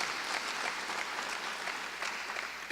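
Steady audience applause fills a hall at a Hall of Fame induction ceremony, moderately loud and even, with no voices over it.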